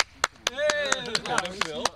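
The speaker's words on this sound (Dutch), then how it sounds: "Applaus voor team A" A few people clap in sparse, uneven claps for a team at a sports event, while voices talk loudly over them.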